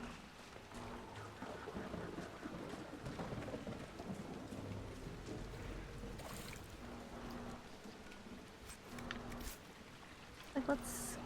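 Steady rain with rolling thunder in the Dragon Age video game, a dense continuous wash of falling water under low rumbles, fairly loud throughout, with a voice speaking over it.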